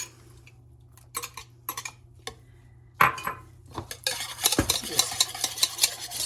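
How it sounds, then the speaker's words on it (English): A utensil stirs Greek yogurt into herb ranch dressing in a bowl. At first there are a few sharp clinks and taps against the dish, then a busier stretch of wet scraping and clicking, close and clear, with a low hum underneath. "Stir that around."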